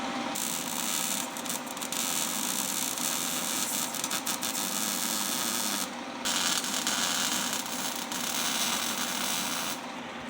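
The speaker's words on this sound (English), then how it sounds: "Well, you can see I'm getting a pretty good weld on it though." Arc welding on badly rusted old metal on a roof gives a steady, dense crackling hiss that runs almost continuously, with two brief breaks where the arc stops and restarts.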